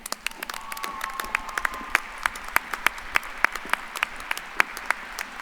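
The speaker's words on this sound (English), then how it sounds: "One more big round of applause for them." Applause for nursing graduates at a spring commencement, a scattered crowd clapping steadily with sharp individual claps standing out, fairly close and sustained.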